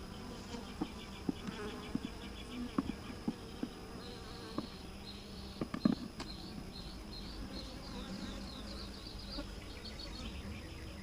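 Honey bees in an open beehive give a steady close buzzing hum with scattered louder passes and faint clicks and knocks from handling the frames.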